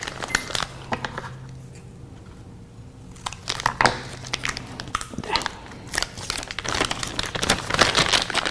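A thin plastic Ziploc bag crinkles and crackles up close as it is cut open in a kitchen while Mexican vegetarian food is prepared, with bursts of rustling broken by a short quieter pause.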